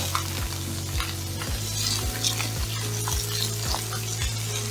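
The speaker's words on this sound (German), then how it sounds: "Und erstmal schön auf der einen Seite schön, bis es braun ist, anbraten lassen." Veal fillet searing in a hot pan, browning on one side: a steady, close, loud sizzle and fry, with faint clicks of the meat or utensils shifting throughout and no voices.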